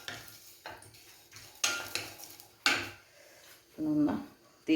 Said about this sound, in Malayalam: ഒന്ന് തീ കുറച്ചിട്ട് നമുക്ക് ഇളക്കാം